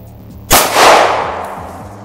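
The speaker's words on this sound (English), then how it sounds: "we're going to start shooting the small tubes." One loud outdoor gunshot hits a small acrylic paint tube to splatter color onto a poppy painting. A sharp close crack is followed by a long rolling echo that fades over about a second and a half, with no talk.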